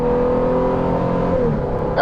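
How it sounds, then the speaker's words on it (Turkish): Toyota HiLux GR Sport pickup accelerating as the throttle is pressed during a test drive, a close, steady engine drone that holds and rises slightly over two seconds, with no voices. "Bakalım gaz alalım gaza basalım."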